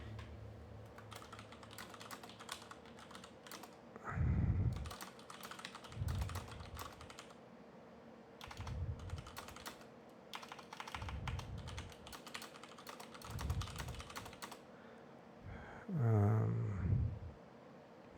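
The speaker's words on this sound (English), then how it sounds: "Let me type in something." Typing on a computer keyboard, bursts of quick close key clicks separated by short pauses, with low snore-like rumbles recurring underneath throughout.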